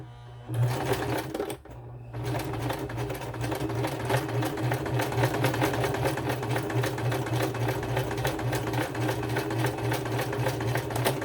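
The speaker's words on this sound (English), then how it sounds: "we're going to start from this end and sew straight stitch all the way around to that end" A sewing machine runs a long straight stitch around the edge of a handmade card envelope, whirring steadily and close with a fast even rhythm after a brief pause near the start.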